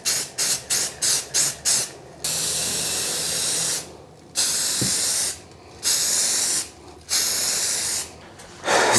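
Spray primer is applied to CNC-cut wall art pieces, first in a run of short rapid hissing bursts, then in several longer sustained sprays separated by brief pauses, close and alone.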